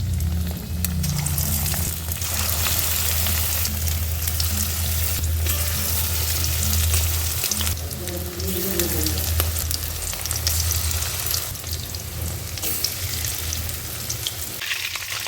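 Pakoras deep-frying in darkened, reused oil give a steady, loud, continuous sizzle with bubbling crackle throughout, and no voices are heard.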